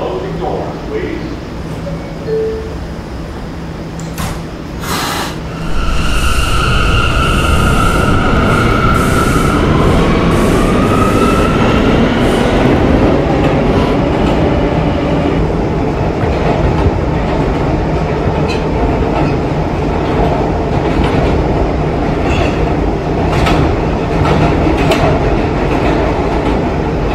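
A Roblox R179 E train on a subway line sounds its door chime, then the doors close and the train departs. Motor whine builds and the wheels roll steadily and loudly, with a recorded announcement heard over the start.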